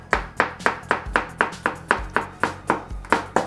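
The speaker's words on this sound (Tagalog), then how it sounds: "magbalat lang tayo ng cucumber. Huwag natin siyang balatan lahat." A knife works through a cucumber on a cutting board, striking the board about ten times in an even, quick rhythm; each tap is close and crisp, with no talking.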